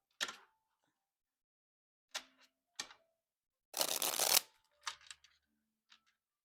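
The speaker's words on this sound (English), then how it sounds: "Yeah, it just shuffles like a dream." A small tarot card deck being shuffled close up, with short crisp riffles and taps separated by silences and one longer, louder flurry of cards in the middle.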